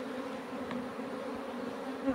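Honeybees drone in a continuous, even buzz at a hive in spring after a colony split, faint and close-up with no voices.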